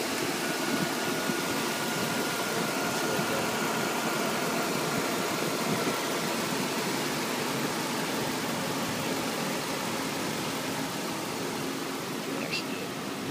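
A 2011 Chevrolet Silverado 4x4 Z71 with a 5.3 liter engine idles in a steady, even drone with no change in pitch, close and continuous throughout.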